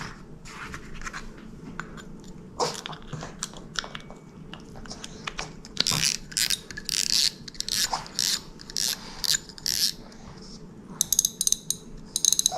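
The spool is fitted back onto a Daiwa 22 Exist LT 5000-CXH spinning reel, making close, quiet mechanical clicks, ratcheting ticks and scraping taps in irregular bursts that grow busier toward the end.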